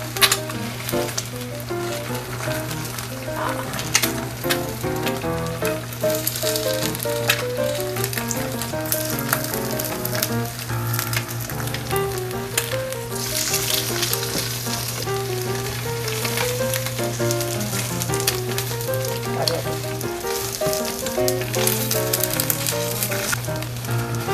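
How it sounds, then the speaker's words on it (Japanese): Eggs sizzle and crackle steadily in a frying pan while being fried for a homemade teriyaki-egg burger, a continuous close hiss running throughout alongside faint background music. "丸い目玉焼きを作ろうと思ったけど失敗。"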